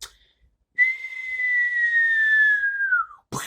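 A man whistles a long, sliding cartoon-style tone lasting about two and a half seconds, imitating a Looney Tunes-like movie sound effect, clear and alone apart from brief noise at either end.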